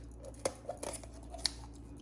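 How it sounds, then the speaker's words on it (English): Sharp kitchen scissors snipping through a whole raw chicken along a line of fat, a few crisp close cuts and wet crunches spaced irregularly over a quiet room hum. "with a pair of scissors here, you're basically going to follow along this line of fat here"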